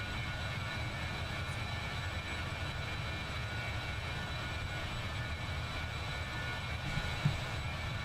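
A BAe146 airliner's engines drone steadily during a climb in Microsoft Flight Simulator, a constant broadband roar with a faint whine layered on top, unbroken and without speech.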